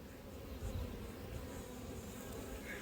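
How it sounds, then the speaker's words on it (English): Drone honeybees mass in an open hive, a dense steady buzzing hum close by, with no talk. "There are masses of drones in here."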